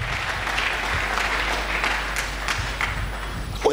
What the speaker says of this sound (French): Acclamons très fort pour les rois de Dieu